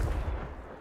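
A booming spell blast from the Confringo curse in Hogwarts Legacy: one heavy, low explosion that hits at once and fades within a second.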